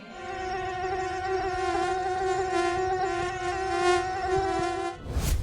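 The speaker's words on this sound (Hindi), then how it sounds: "हाट, बाजार, चाय की दुकान और घरों में भी हर तरफ मच्छर भिन भिनाने लगते हैं।" Dense swarm of mosquitoes buzzing continuously in a village market and homes, a steady high whine with layered harmonics holding loud and close for several seconds, no voices.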